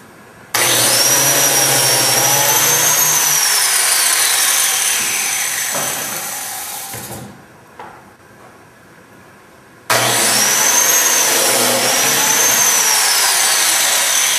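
A power tool cuts biscuit slots into canvas stretcher wood, starting with a loud, steady whine that winds down, then starting up loud again after a pause.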